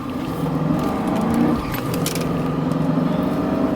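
Mercedes-Benz W140 S500 V8 heard from inside the car under acceleration, a loud steady engine drone with a brief hesitation and roughness partway through before the pull resumes evenly.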